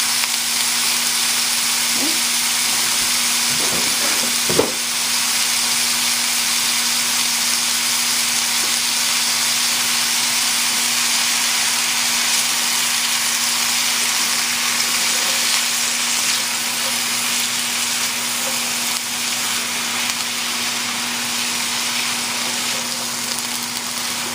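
Chicken and green beans stir-fry in a hot pan with a steady, dense sizzle that holds for the whole stretch, one brief clatter of a utensil early on, and no talk.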